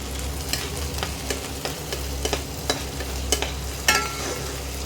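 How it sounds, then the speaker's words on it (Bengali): Onion paste being stir-fried in a pan for a marich mutton dish, a steady close sizzle with repeated scraping clicks of the spoon against the pan. "এবার এই পেঁয়াজ বাটাটাও একটু কষিয়ে নিতে হবে।"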